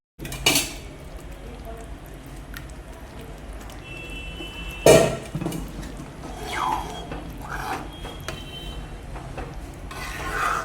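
Cooked dal emptied from a metal pressure cooker into a cooking pot over spiced masala, heard as scattered metallic clanks, scraping and a loud knock midway in a home kitchen.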